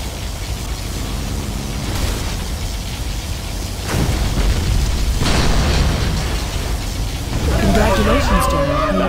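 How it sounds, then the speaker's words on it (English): Heavy sci-fi particle cannon blasts boom and rumble in bursts over a noisy battlefield in Command and Conquer Generals, then a synthetic announcer voice speaks near the end. "Particle cannon activated."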